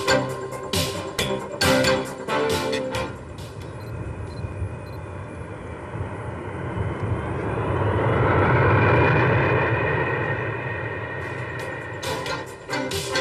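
Military Airlift Command transport aircraft such as the Lockheed C-130 Hercules, C-141 Starlifter and C-5 Galaxy make a loud engine roar that swells and fades as a plane passes, with clattering noises at the start and end.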